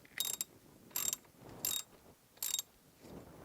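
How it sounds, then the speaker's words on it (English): A wrench turns counterclockwise to loosen the mounting nut on a guitar's 3-way pickup selector toggle switch, giving four close, evenly spaced bursts of metallic ratcheting clicks with no talk. "we're going to take our wrench and turn counterclockwise to loosen the nut"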